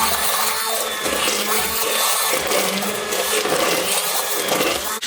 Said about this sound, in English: I'm just going in with my stick blender here and breaking up that into smaller pieces.